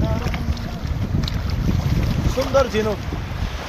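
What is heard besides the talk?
sea waves coming in at high tide on the beach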